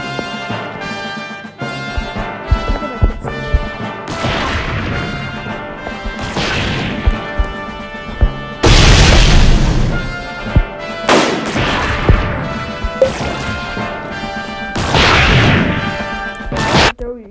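Bomb explosions and impact blasts in a Roblox-style pirate game boss fight in the first sea, with several loud crashing bursts spread throughout over steady game music, no talking.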